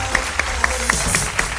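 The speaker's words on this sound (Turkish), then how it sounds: "O zaman kocaman alkışlarınızla Gözde iş yapan." An audience at a Turkish TV entertainment show claps in a steady, rhythmic unison beat, roughly four claps per second over a dense crowd applause bed.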